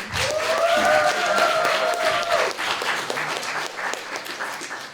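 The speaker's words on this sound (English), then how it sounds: "Let's have one final round of applause for our first group." Audience applause rings out at a student government debate night, with a voice cheering or whooping over the clapping early on before the clapping gradually thins.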